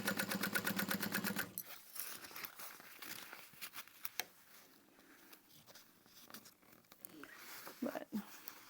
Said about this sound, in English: I'm just slowly sewing around